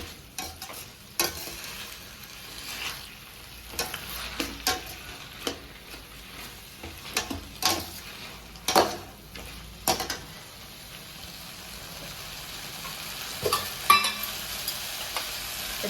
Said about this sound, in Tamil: நல்லா வந்து எண்ணெயில் கொஞ்சம் வதக்கி விட்டுட்டு அப்புறம் மிளகாய் தூள் போட்டு நல்லா வந்து வேக விட்டுருவோம்